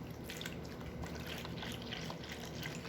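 A litre of full-fat milk is poured into a small basin, making a steady, soft trickling and splashing that runs unbroken for a few seconds.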